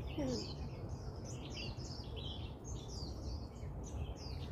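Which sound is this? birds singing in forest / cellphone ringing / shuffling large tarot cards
birds singing in forest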